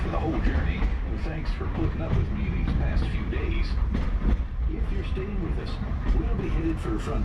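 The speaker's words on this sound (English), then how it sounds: "please stay seated until our train comes to a complete stop" Walt Disney World Railroad steam train rolling around the Magic Kingdom, a continuous rumble of carriages with rhythmic clicking of wheels on track, heard under an announcer speaking over it.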